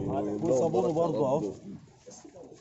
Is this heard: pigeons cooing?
yes